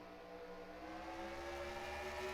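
A race car engine in a racing video game holds a steady, loud whirring drone at the race start, rising slightly in pitch as the throttle opens, with no voices over it.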